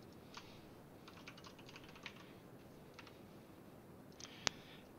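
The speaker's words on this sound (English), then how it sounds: "Just give me 1 second to type my password in." Soft keystrokes tap on a computer keyboard as a password is typed, faint irregular clicks in quick clusters, closing with one sharper click.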